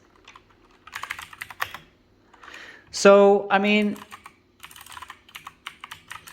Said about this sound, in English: let's flip them back over and type on them a little bit, see how it feels. You can feel those clicks.